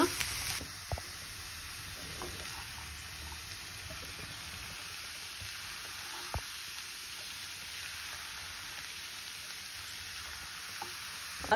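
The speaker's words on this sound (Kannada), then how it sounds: "ಕುದಿತಾ ಇದೆ" Pumpkin bassaru, a traditional Karnataka curry with grated coconut, bubbling on a medium flame makes a steady soft simmer with a few faint taps, and nobody speaks.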